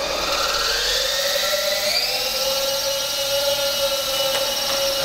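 A small T Series T623 RC helicopter's electric motor spins up to full throttle, a loud, close, high-pitched whine that rises in pitch and then holds steady.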